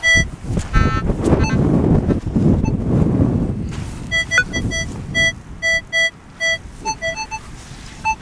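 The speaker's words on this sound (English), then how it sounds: "it has been gusting, very windy" Strong gusting wind during a storm while metal detecting outdoors, heavy buffeting rumble against the microphone that eases off midway, followed by a run of short, evenly spaced electronic tones from the detector.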